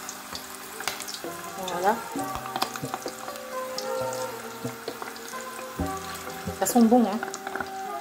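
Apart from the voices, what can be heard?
kafta meatballs meat cooking in a pan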